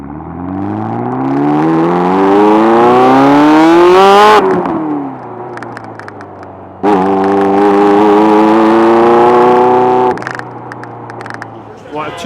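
A Ferrari F40 with turbocharged engine and fairly open exhaust revs hard at full throttle, loud and close, climbing twice in long rising pulls that cut off sharply, settling to a low idle between.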